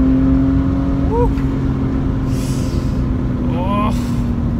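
A Toyota MR-S engine rumbles steadily up close with a low constant drone, rising briefly in pitch as it revs, with faint chirping sounds above.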